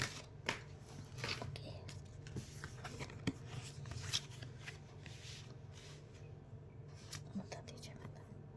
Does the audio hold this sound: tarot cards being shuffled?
yes